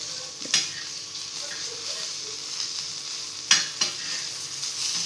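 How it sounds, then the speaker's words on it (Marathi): Small mixed fish, tiny prawns among them, frying in a pan with a steady close sizzle and light stirring, plus a few brief sharper clicks of the utensil. "आपली मच्छी पण झाली आता फ्राय झालेली आहे"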